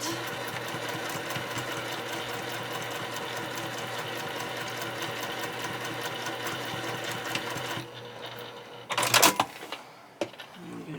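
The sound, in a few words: sewing machine stitching fabric seam for project bag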